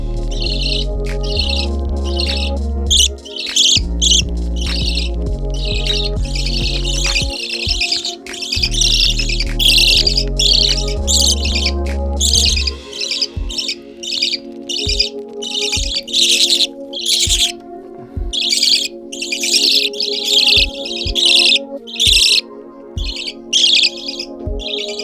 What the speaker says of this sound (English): they start chirping loudly and calling for me to feed them